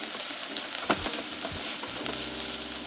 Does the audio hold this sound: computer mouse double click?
no